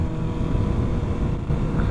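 A motorcycle engine drones steadily with a low, rumbling exhaust, constant and fairly close throughout.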